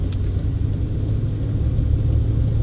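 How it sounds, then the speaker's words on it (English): A Tesla Cybertruck drives toward the listener on Park Vista in Summerlin, Las Vegas, giving a steady low road rumble with tire hum that holds at an even, fairly loud level throughout. "Tesla Cybertruck coming at us."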